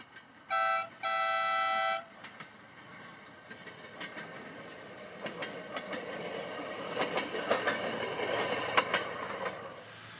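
A Durango and Silverton railway train gives a short two-tone horn blast, then rolls on with rhythmic clattering wheels and metallic clanks that build steadily in loudness.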